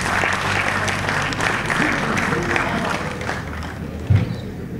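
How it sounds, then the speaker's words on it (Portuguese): Crowd applause at a Tumba festival awards event, a broad continuous wash of clapping with crowd noise and some voices mixed in, steady and fairly loud throughout. "pedimos um aplauso e muito grande"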